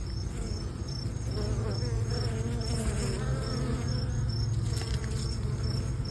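Honeybees carrying pollen crowd a hive entrance on day two after being moved, making a dense, steady close buzzing hum that never breaks, with no talking.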